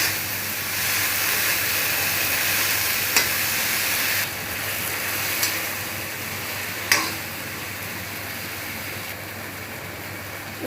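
Tomatoes and coriander fry in a pan with a steady, loud sizzle and hiss, broken by a few sharp clicks of stirring; no voices.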